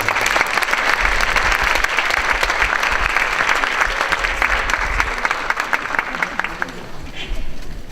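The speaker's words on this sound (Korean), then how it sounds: "조영현 학생 큰 박수로 맞아주시기 바랍니다" At a school graduation ceremony, an audience gives a graduating student a loud, sustained round of applause, dense clapping filling the hall steadily before easing slightly at the close.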